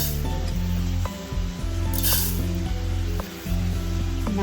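Fenugreek and mustard seeds fry in a hot pan for tomato pickle, giving a steady sizzle and light crackle over a constant stove hum, with a couple of brief dips and small clinks along the way.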